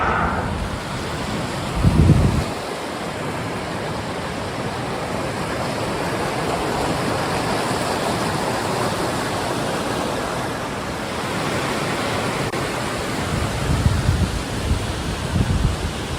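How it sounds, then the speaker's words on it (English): Constant highway traffic at Echo Lake, a dense unbroken roar of passing vehicles close by, with louder whooshes of nearer cars swelling at the start and again toward the end. "Trying to cross the highway here at Echo Lake, and this traffic is non-stop."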